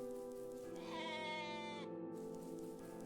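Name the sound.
sheep bleating in the video game OneShot: The World Machine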